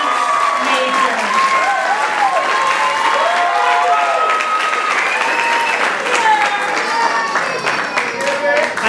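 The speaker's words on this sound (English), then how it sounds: "can we have one more round of applause for our class of" A graduation audience gives sustained applause for the class of 2017 dance majors, full and loud throughout, with cheers and whistles rising above the dense clapping.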